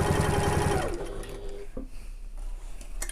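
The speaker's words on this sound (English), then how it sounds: "I'm just going to sew around" A sewing machine stitches around the top of a fabric backpack, its motor humming loudly and steadily at first, then running lower and rougher with a few sharp clicks.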